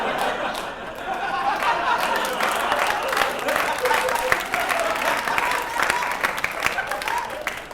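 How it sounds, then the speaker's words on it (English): A studio audience at a comedy talk show breaks into dense, sustained applause lasting several seconds, with scattered chatter and light laughter mixed into the steady roar of clapping. "Don't be thrown by that applause."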